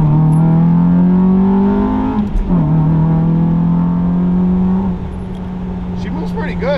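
A 2002 Acura RSX Type S pulls hard on a road in Mexico, its engine note climbing steadily, dropping briefly at a gear change, then rising again, heard loud from inside the cabin with voices talking over it.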